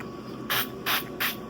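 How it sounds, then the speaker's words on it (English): Cooking oil sprayed from a can onto a hand while making high-protein bagels in a home kitchen: three short, close hissing bursts, evenly spaced, with quiet pauses between them. "can you spray some like oil on my hand?"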